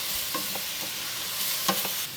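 Chopped tomatoes, about five, hitting hot oil in a pan with onions while cooking a spicy okra curry, giving a steady loud sizzle with a few stirring scrapes and clinks.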